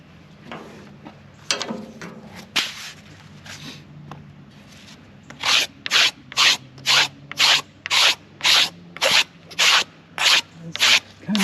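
Baby hickory wood being scraped with a steady series of about a dozen rhythmic, raspy strokes, close and fairly loud, after a few scattered rubs and knocks at the start.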